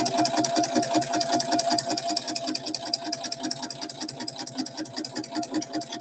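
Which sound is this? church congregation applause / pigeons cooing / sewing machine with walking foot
sewing machine with walking foot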